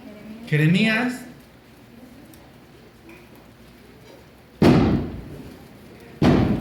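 Firecrackers explode outside with two sharp, loud bangs that ring out and decay, separated by a pause, after a voice speaks at the start.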